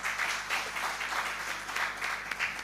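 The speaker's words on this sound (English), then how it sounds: "give the panelists a round of applause" Applause for the panelists at a 25th-anniversary event of the Uganda Forex Bureau & Money Remittance Association, a steady wash of clapping from the audience that holds for the whole stretch with no voices over it.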